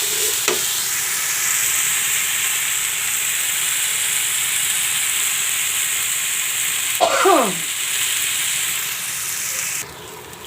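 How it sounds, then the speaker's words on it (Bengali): A spice paste for hilsa fish curry with eggplant fries in a pan with a continuous sizzling hiss, broken by a few scrapes and knocks of a spoon stirring it. "মশলাটা একটু ভালো করে কষিয়ে নেব"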